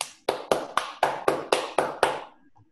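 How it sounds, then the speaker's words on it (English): A short burst of eight sharp, evenly spaced hand claps, close and crisp, then silence. "And give a clap for Brisa."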